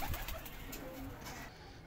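A Prince Kamagar pigeon coos softly at a low level, with faint background noise and no one speaking.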